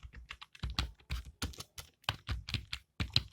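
Fingers type on a computer keyboard in quick, irregular bursts of sharp close clicks with brief pauses between words, quiet and without speech.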